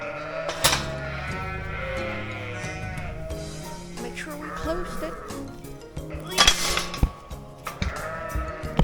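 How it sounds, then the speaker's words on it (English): Sheep on a British sheep farm, three escaped from their pen, bleat loudly and repeatedly at close range, the calls overlapping with a person talking and a few light metallic clinks. "Hello, you three escape sheep."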